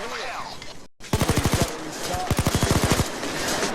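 Automatic machine-gun fire from a police van in the video game Payday 2, arriving as two rapid bursts of sharp evenly spaced shots, each a string of about eight to ten reports, after a brief muffled lead-in.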